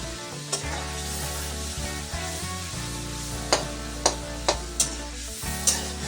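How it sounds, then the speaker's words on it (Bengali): Chopped onions and tomatoes frying in a pan with chicken broth cooking, a steady sizzle throughout, broken by several sharp clinks of a utensil stirring against the pan toward the end. "এবার এর মধ্যে আমি পেঁয়াজগুলিকে আর টমেটো একসাথে দিয়ে দেবো"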